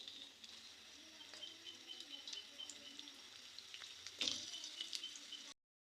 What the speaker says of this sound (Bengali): এখন আমি তেলটা গরম হয়েছে পেঁয়াজগুলো দিয়ে দিই